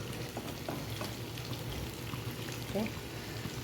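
Pieces of elephant foot yam frying in hot oil give a steady, faint sizzle and hiss throughout, with a brief stir or scrape near the end.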